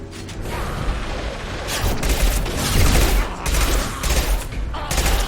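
Gunfire in the video game Mass Effect 2 rattles in dense, sustained bursts with mechanical clatter, loud and continuous across the whole stretch.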